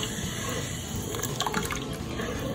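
Water being stirred into pea soup inside an electric pressure cooker, with a busy, wet sloshing and trickling that stays close and fairly steady, a few louder swirls rising in the middle.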